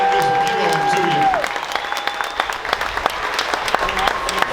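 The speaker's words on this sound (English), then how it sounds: "Let's give them one more round of applause." A monster truck show crowd applauds special guests in an arena, broad sustained clapping and cheering from a large audience, with a voice and a tonal sound fading out at the start before the applause carries on alone.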